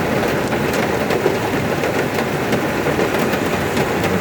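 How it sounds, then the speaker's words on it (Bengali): Heavy rain drums steadily and loudly on a car while the listener sits inside it, a dense, unbroken wash of noise with no talking. "প্রচুর বৃষ্টি।"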